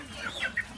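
Live chickens cluck faintly on a storm-damaged poultry farm, two or three brief calls over a low background hiss.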